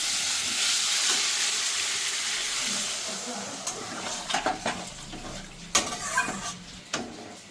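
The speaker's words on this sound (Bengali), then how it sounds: "এবার আমি দিয়ে দেবো জলটা।" Water hits a pan of hot fried spice masala for a fish curry with radish and potato, setting off a loud, broad hiss that fades into a softer simmer, followed by scattered clinks and scrapes of a utensil against the pan.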